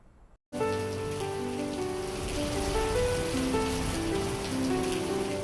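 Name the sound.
heavy rain during floods in Ramban, Jammu and Kashmir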